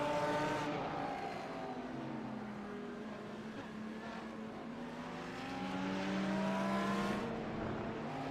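GT3 race cars, BMWs among them, lap Silverstone in a sim racing game: a sustained engine drone whose pitch falls and then climbs again as cars pass and accelerate, with faint overlapping engines behind.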